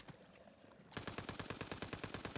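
Rapid automatic weapon fire in Borderlands 3 played on Nintendo Switch, a steady rhythmic stream of loud shots starting abruptly after a brief quiet lead-in.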